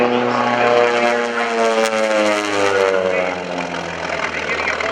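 A Grumman FM-2 Wildcat, a World War II propeller fighter, drones steadily at an airshow with a loud, continuous radial-engine roar and shifting harmonic tones, while a narrator speaks over it.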